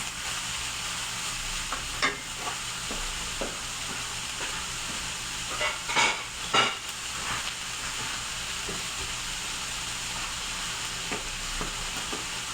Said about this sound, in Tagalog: Isa-gisa lang natin.